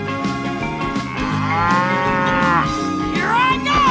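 A cow in a 3D animal game lets out a long, loud moo over bright background music, close and sustained for several seconds.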